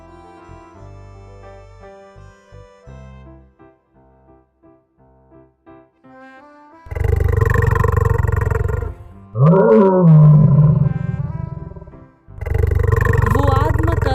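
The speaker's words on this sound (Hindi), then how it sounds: "शेर खां ने उसे दहाड़कर युद्ध करने के लिए बोला।" Cartoon tiger Sher Khan roaring in a jungle fight story: after a quiet musical lead-in, two loud, drawn-out roars burst in, separated by a brief pause, close and forceful.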